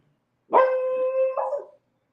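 A beagle puppy gives a single stretched-out baying bark, close and clear, ending with a short wavering tail.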